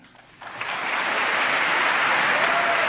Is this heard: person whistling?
no